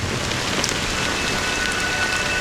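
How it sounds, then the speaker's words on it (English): Steady rain falling on surfaces, a dense continuous hiss with scattered droplet patter throughout. "But it's still raining."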